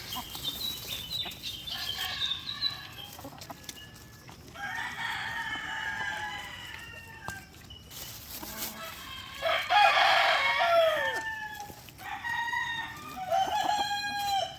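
Asil and shamo chickens clucking and calling in bursts, with a rooster-like crow standing out near the middle; fairly close, no speech.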